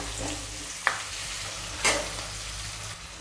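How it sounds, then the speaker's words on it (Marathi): Onion and curry leaves sizzle steadily in hot oil with mustard seeds and cumin, close by, broken by a couple of sharp scrapes as the pan is stirred. "त्यानंतर आपण कांदा टाकूया हा कढीपत्ता टाकूया हे असं हलवूया"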